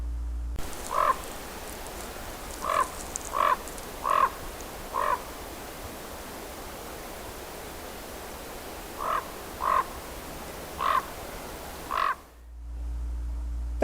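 Harsh, rough croaking calls of a raven, given singly in two spaced groups: about five evenly paced croaks, a pause, then four more, fairly loud against a quiet background.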